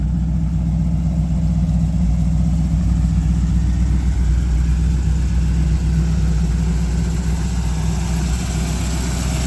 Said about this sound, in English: Really love the sound of the exhaust. Like I said, it's not too aggressive, it's just right.